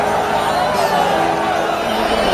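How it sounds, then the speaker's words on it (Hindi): A huge crowd of pilgrims gathered for the Basant Panchami holy bath at the Mahakumbh in Prayagraj, a dense continuous murmur of many voices at steady loudness with a person talking over it. "महाकुंभ में बसंत पंचमी पर उमड़ी श्रद्धालुओं की अपार भीड़।"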